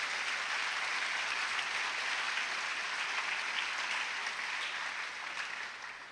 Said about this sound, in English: can we give our great nation a big round of applause